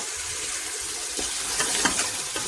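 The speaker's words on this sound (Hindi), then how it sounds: "इसमें पानी डाल के इसका शोरबा बनाएंगे।" Water poured into a pan of frying potatoes and peas for aloo matar curry, a splashing rush that swells over the hot sizzle for a couple of seconds.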